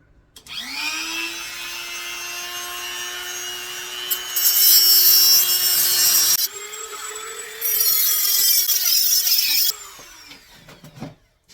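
A power cutting tool, likely an oscillating saw, slices through metal toilet tank bolts, giving a loud, steady high-pitched whine that shifts pitch partway through, with a brief pause and a final rising screech as the cut finishes.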